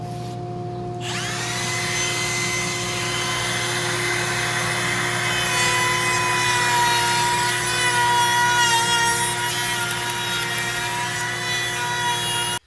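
A power tool cutting a dado in wood for a raised planter starts up after a second and runs as a loud, steady, high whine that holds for about twelve seconds, close by, with no talking.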